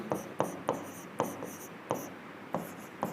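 Chalk or marker taps and strokes across a classroom board during a soil lesson, roughly eight sharp rhythmic strokes close by, with no speech.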